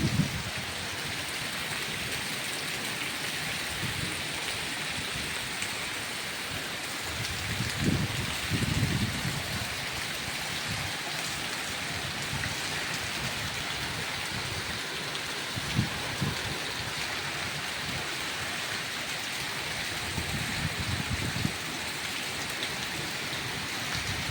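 Steady rain pours down in a constant hiss, with occasional soft thuds and rustles beneath the downpour.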